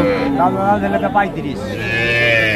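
A young calf moos at a cattle market in Bangladesh, one drawn-out, wavering call that stands out loud and close over a faint bit of background chatter.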